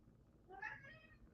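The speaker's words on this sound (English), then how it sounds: "I know all my cats meows." A domestic cat meows once, a short, fairly faint call rising out of quiet room noise in the middle of the moment.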